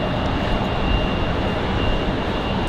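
An airliner arriving from LaGuardia at Raleigh-Durham airport on a windy day gives a steady, broad jet roar that holds loud and even throughout, alone without talk.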